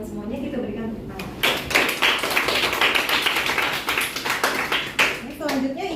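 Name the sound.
classroom applause for students' answers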